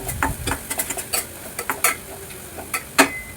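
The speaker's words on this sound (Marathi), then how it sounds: "आता याच्यामध्ये आपण दोन चमचे लाल मिरची पावडर एक चमचा गरम मसाला हे थोडं मिक्स करून घेऊया" Spoon scraping and clinking against a pan while red chilli powder and garam masala are stirred into a mushroom gravy base, irregular close metallic taps with a faint sizzle underneath.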